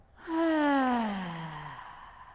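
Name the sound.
deep breath exhaled during yoga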